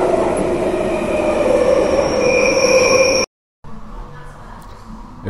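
A train running through London in the early morning gives a steady, loud rumble and hum for about three seconds, then a sudden cut to near silence followed by a quieter rolling sound.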